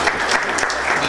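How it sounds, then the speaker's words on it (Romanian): A short, loud burst of crowd applause at a cattle breeders' award ceremony in Rasnov, dense clapping with some voices mixed in. "Felicitări și aplauze"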